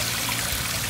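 Water from a wishing-well waterfall splashing into a rock-lined garden pond, a dense continuous rush and patter, close and steady throughout with no voices.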